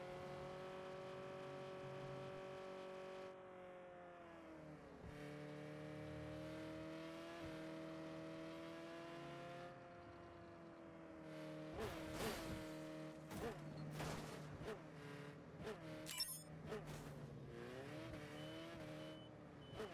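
A car drives in the video game Saints Row, its engine holding a steady drone, then revving and shifting, with sharp bursts and skids toward the end.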